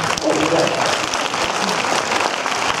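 Audience claps loudly and briskly for a presentation about a film, a short close burst of applause with crowd noise and voices mixed in.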